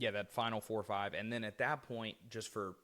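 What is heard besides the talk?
None of the usual background noises is heard.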